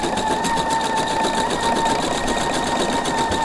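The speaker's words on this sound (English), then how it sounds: "I'm just going to touch start and it's stitching down my yarn" Sewing and embroidery machine stitching down couched yarn, a steady rapid needle hum with fast rhythmic clatter running continuously and close, with no talk.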